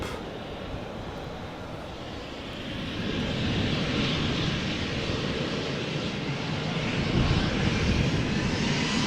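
A KLM Embraer 190 jet climbs out after takeoff at Amsterdam Schiphol, its engines a loud, steady broadband roar that swells partway through and stays strong, heard alone without voices.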